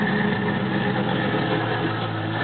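A lifted 1995 Land Rover Discovery with a 3.9-litre V8 idles roughly, heard from behind the vehicle near the exhaust. The steady, close engine drone runs for the whole stretch with no talking.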